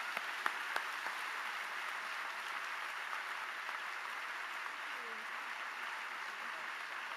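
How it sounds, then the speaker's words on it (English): Audience applause at a University of Texas event welcoming Secretary Blinken and Senator Hutchison onto the stage, a steady, faint wash of clapping from a distance lasting throughout, with no voices. "Please join me with a round of applause welcoming Secretary Blinken and Senator Hutchison for them to take the stage"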